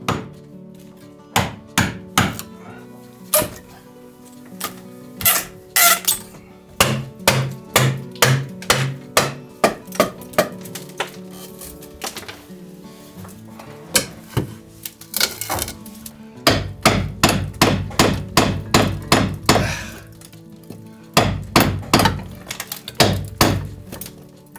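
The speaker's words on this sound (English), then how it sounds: "I still use a chisel to cut them. It's tough to chisel it off like this." A chisel cutting wood during a carpenter's home renovation: a long series of sharp, loud knocks and mallet blows, sometimes in quick bursts, with scraping between strikes and no talk.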